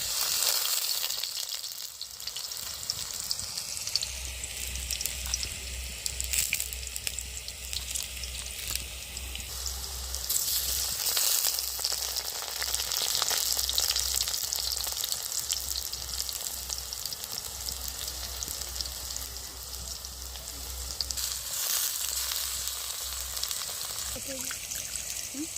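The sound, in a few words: squeezed wild mushrooms frying in oil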